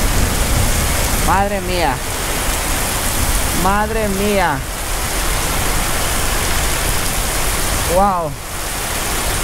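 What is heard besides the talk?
heavy rain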